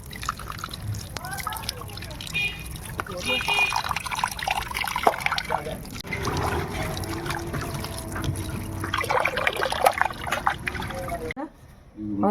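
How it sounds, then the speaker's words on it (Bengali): Pieces of gurjawali fish being washed by hand in water in a home kitchen, with soft splashing and dripping trickles throughout and a voice talking over it. "বন্ধুরা মাছগুলো ভালো করে ধুয়ে নিই।"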